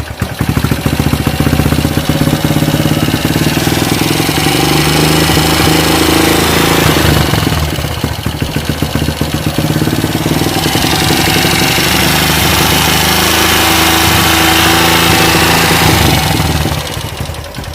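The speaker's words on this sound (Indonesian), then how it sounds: "Kalian belum dengerin suaranya ya, motornya gimana?" Bored-out Honda Blade 130cc motorcycle engine idling up close, a loud, rattly, continuous clatter with a slight rise and dip in revs partway through, no voices.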